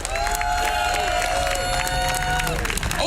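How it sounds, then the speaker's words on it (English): A crowd at an outdoor rally for Assange applauding and cheering, a loud and continuous wash of clapping and shouts with a sustained whistle or tone running through it. "I want to give a huge round of applause to all the organizers who put this incredible event together"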